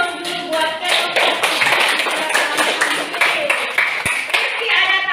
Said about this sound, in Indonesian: Ya, berikan aplaus dulu buat kelompok.